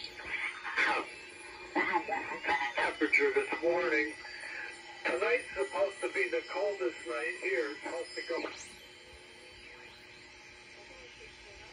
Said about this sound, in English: You can barely hear it. Now, you hear it coming in every little bit